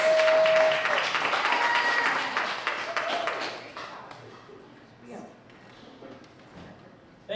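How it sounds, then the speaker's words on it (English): A crowd at a live theater show claps and applauds for two producers, loud at first and then tapering off over several seconds, with voices audible among and after the clapping. "another round of applause for our two"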